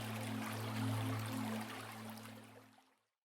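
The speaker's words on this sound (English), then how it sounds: "we are going to pause for a moment to enjoy the sound of river water" A river in a Karen community in Thailand, heard as a soft, continuous rushing of flowing water at a low, even level with a faint steady hum beneath it, fading out at the end.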